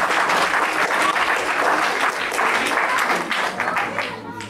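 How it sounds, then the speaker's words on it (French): A crowd at a live show applauds a performer named Laïla, steady loud clapping that holds throughout and tapers slightly at the end, with some voices mixed in. "on peut l'applaudir quand même"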